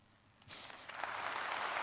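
A short burst of crowd applause plays through speakers, starting faint and swelling into steady, moderately loud clapping.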